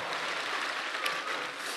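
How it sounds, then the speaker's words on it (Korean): Audience applause at a church thanksgiving night gathering: a steady, dense wash of many hands clapping throughout, loud and continuous with no talk over it. "서 있는 분들에게 박수!"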